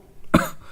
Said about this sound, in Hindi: काफ़ी जोर की खांसी है।